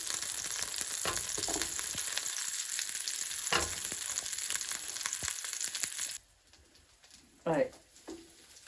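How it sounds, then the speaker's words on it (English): Courgette, aubergine and broad beans hit hot oil for a curry, giving a steady loud sizzle that cuts off abruptly, followed by a few quieter stirring scrapes. "first things to go in are the courgette, aubergine, as well as these broad beans"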